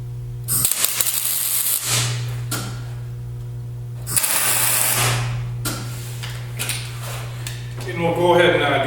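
A welder tacks the corners of a steel truck rack frame, giving several loud, crackling bursts of about a second each over a steady electrical hum, with a voice speaking near the end.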